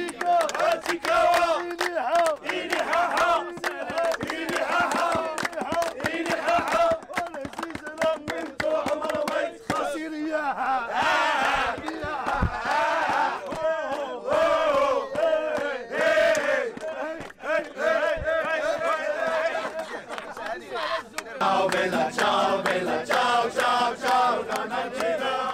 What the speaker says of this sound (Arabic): الجماهير تفاعلات مع الاغاني المغربيه ورددوها بصوت عالي.